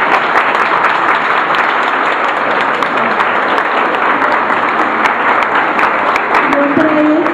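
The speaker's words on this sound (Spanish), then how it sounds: "que pido un gran aplauso para ella." Sustained applause from a gathered audience welcoming a neighborhood guest at a live radio program, dense even clapping that continues for several seconds.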